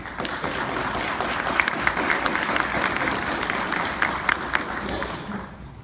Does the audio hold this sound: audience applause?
yes